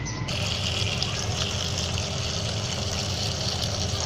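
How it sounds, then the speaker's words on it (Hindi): Water gushes and splashes steadily, a continuous broad rushing pour over bitter gourds in a container, close and fairly loud. "अब इनमें मैं पानी डालूंगी, इनको धो लूँगी।"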